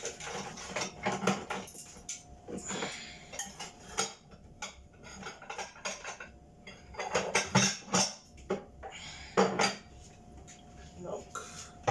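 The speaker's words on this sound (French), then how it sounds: "je vais enlever la chair qui est à l'intérieur avec la petite cuillère" A small spoon scrapes and clinks against a shell or dish while flesh is scooped out, giving soft intermittent scraping and light clicks close by, with some quiet background sounds.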